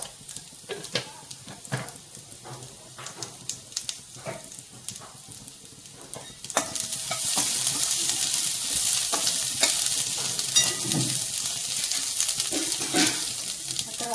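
Crispy corn sautéed with salt in a pan, with scraping and stirring at first, then a louder, steady frying sizzle that swells midway and holds close up.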